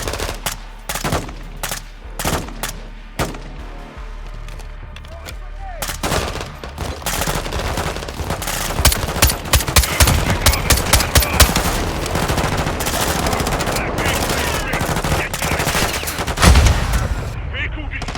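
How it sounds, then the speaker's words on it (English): Cover fire in the video game Call of Duty Modern Warfare 2, beginning with spaced single gunshots and building into dense, continuous automatic fire with heavy booms, loud and close throughout. "My men need cover fire"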